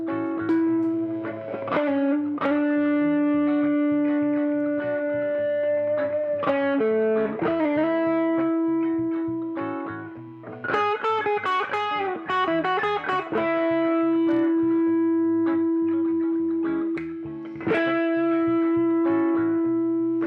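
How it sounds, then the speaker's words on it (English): Distorted electric guitar, a custom archtop from about 2006 played in super humbucker mode, with sustained notes and short riffs, thick and saturated with a touch of reverb, steady and loud throughout. "I'll do that all with some distortion."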